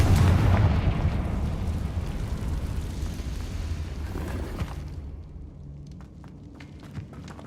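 A Confringo spell explosion from Hogwarts Legacy hits with a deep, loud boom at once, then rumbles down into crumbling debris and scattered small impacts, alone without talk.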